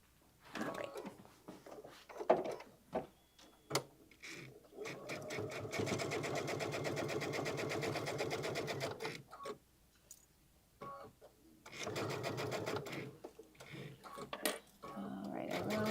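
A sewing machine runs basting stitches through fabric in two bursts of rapid, rhythmic stitching, each several seconds long, with brief pauses and handling clicks between them and some quiet talking.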